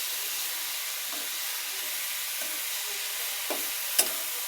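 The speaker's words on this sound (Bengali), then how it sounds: "এইভাবে সরাসরি তেলে ছাড়ি দিলাম।" Red amaranth greens fry directly in oil, a steady soft hiss running throughout, with a few faint utensil taps and a sharper clink toward the end.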